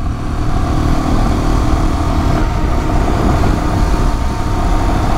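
Royal Enfield Himalayan motorcycle cruising on a highway, a steady loud engine drone with broadband wind rush that holds constant throughout, no pauses or gear changes standing out.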